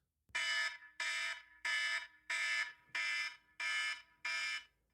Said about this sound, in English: The alarm will sound like this.